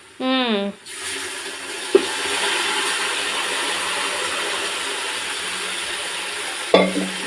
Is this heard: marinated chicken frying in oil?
yes